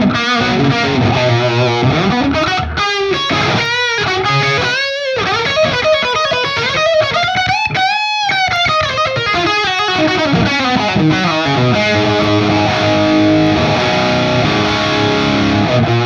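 An electric guitar plays through channel 3 of a Headfirst Alta100 amp without the bright option, heavily distorted and loud, with sustained chords and sliding notes that ring continuously and close.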